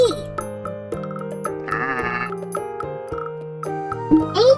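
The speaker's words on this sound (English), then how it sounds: "G for goat." A goat's bleat, part of a children's alphabet lesson, rings out as a sustained wavering animal cry in the middle, surrounded by bright synthesized music tones throughout.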